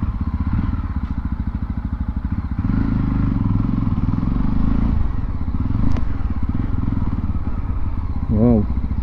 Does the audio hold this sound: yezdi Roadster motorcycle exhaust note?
yes